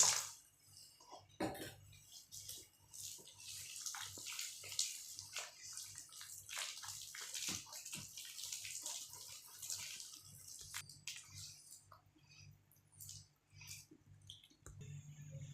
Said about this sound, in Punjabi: ਇਸ ਚੰਗੀ ਤਰ੍ਹਾਂ ਇਸ ਨੂੰ ਘੋਲਦੇ ਰਹਾਂਗੇ